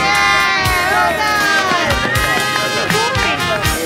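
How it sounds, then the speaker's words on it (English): A crowd at the Goan Associations UK annual sports day cheers a race, with loud, close children's shouts and whoops over a steady wall of cheering that barely dips. "Very big cheer for that."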